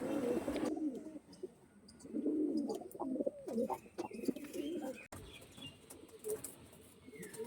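Flying pigeons kept for sale coo in low, throaty rolls, several birds overlapping close by, with a few faint chirps and soft rustling in between.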